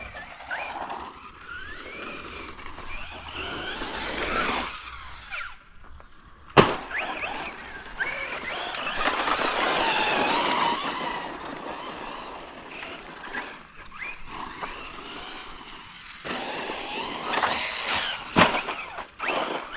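A CEN Racing Reeper SC radio-controlled short course truck drives: an electric motor whines and rises and falls in pitch as it speeds up and slows, with a sharp knock partway through and tyre and gravel noise, and no voices.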